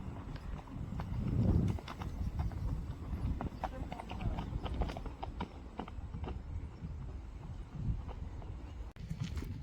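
Horse walking along a dusty dirt road between fields, hooves clip-clopping in a steady, fairly close rhythm while a person talks over it; soft wind in the background.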